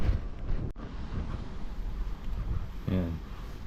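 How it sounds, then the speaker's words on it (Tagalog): Wind roars steadily around a boat off Batanes, a broad continuous rush with gusty swells and a brief sharp knock partway through, while a voice briefly speaks near the end. "Sigurado ako maririnig yung ugong ng hangin"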